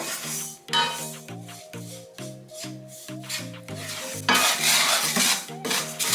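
Garri being dry-fried in a pan, stirred steadily with a utensil that scrapes and rubs in a regular rhythm. A faint crackle runs beneath it, growing rougher and louder toward the end.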